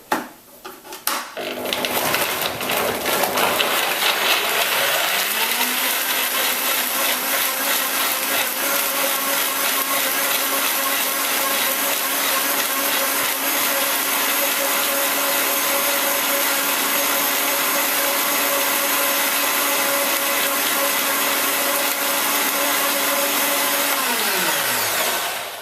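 A blender runs continuously, blending raw ratatouille ingredients in a kitchen: a loud, steady whirring motor that starts up within the first few seconds, holds an even roar throughout, and winds down at the very end.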